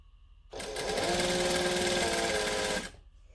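Sewing machine running steadily to stitch a seam for a Butterick B6764 sewing project, a close, continuous mechanical whir lasting about two seconds before stopping abruptly.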